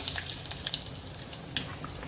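Asafoetida and curry leaves sizzle in hot oil with cumin and fenugreek powder in a pan, a steady close frying hiss with small crackling pops, no voices.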